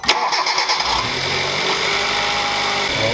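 A car engine cranks and catches with a sharp start, then settles into a steady, fairly loud idle that runs on unchanged, with no voices.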